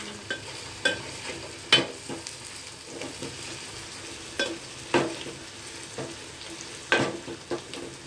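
Onion with green chilli fries in a pan under a quiet continuous sizzle, and a spatula scrapes and knocks against the pan in irregular sharp strokes.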